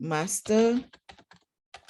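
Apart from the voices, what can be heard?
typing a search on a computer keyboard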